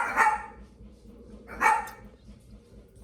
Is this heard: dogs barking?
yes